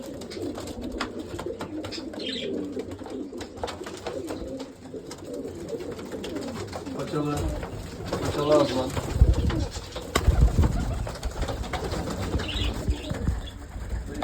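Pigeons coo softly in low, throaty bursts, with wings fluttering and a person talking in the background.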